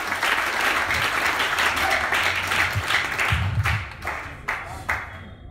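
A church congregation breaks into loud sustained applause, dense hand clapping that carries on for several seconds, then thins into a few scattered claps at the end.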